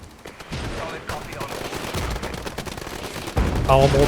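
Mortar fire in the war game Regiments: a rapid string of booming impacts and bursts piles up over about four seconds, growing denser and louder toward the end, with no talk over it.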